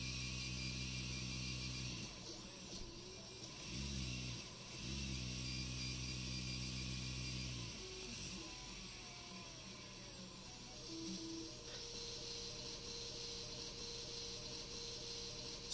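A Rollerdrive 9006 brushless DC motor runs steadily on a controller, its tonal hum shifting in pitch as a 10K potentiometer changes the speed, with gear-like whirring and a few brief dips.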